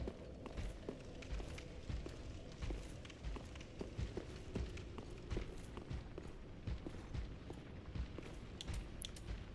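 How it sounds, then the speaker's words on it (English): Footsteps in the dark fantasy game Dark Souls III, a steady run of muffled thuds mixed with clinking, creaking armor and gear over a dense low rumble, continuous and moderately close. "Thought I heard footsteps."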